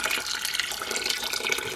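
Warm water pouring into a small portable washing machine, a steady, close splashing gush filling the tub, with no talking.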